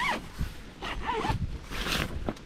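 A zipper is pulled shut on a Gazelle T4 Overland Edition tent. It makes several quick rasping runs over about two seconds, close up and fairly loud, with no voices.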